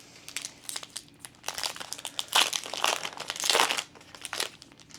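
Crinkling foil wrapper of a trading card booster pack torn open and handled, with irregular bursts of crisp crackling over about five seconds, louder toward the middle, close up with no talking.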